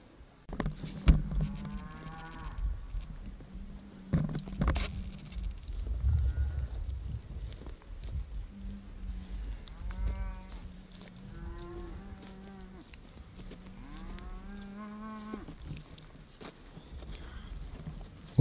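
Cattle mooing in New Mexico elk country during an archery hunt, several long, drawn-out lowing calls close by, with hoof thuds and movement between them and no talk.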